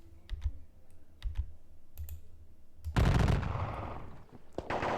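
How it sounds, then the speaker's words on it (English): Musket volleys in a Napoleonic Battles computer wargame: a few sparse clicks and soft pops, then a sudden dense burst of crackling gunfire that rolls on and fades, with another sharp crack near the end. "We're still firing like volleys into these guys and they're just standing there."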